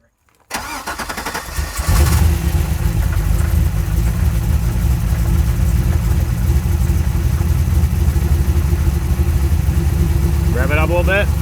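A Corvette C5 with an LS1 V8 cranks and catches after a brief start, then settles into a loud, steady, rumbling idle close by. A voice briefly speaks near the end.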